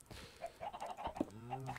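A chicken in the Minecraft video game clucks in a string of short, close calls, with a brief squawk near the middle, and no one talks over it.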